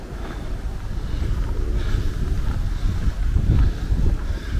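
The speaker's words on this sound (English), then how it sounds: "the wind isn't actually affecting me walking, it's just affecting me as in talking to the camera" Wind buffets a microphone during a sunny spring walk on the downs around Berwick St John, a continuous low roaring rumble that surges and eases without pause.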